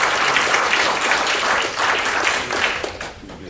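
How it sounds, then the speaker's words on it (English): A roomful of people at a volunteer reception applauds two departing volunteers, a full, steady wash of clapping that holds for several seconds before tapering slightly at the end. "If we can give her, both of them, a round of applause"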